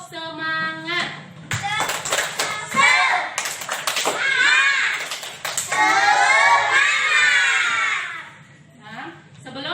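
Schoolchildren in a class perform a rhythmic clapping chant together, claps mixed with their loud group voices chanting and calling out, lively and close.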